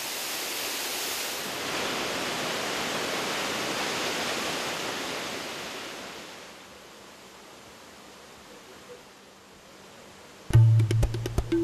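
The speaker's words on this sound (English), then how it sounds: "Over 300 rivers and streams are to be found on the island, as well as waterfalls and lakes." A waterfall on the island of Dominica gives a steady rushing roar for several seconds, then fades to a softer wash before a brief, abrupt clattering burst at the end.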